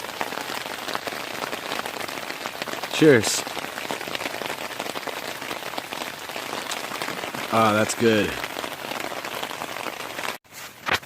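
Steady rain patters on leaves and the ground in a wet woodland during a bushcraft outing, a dense constant hiss throughout, with someone speaking briefly twice over it.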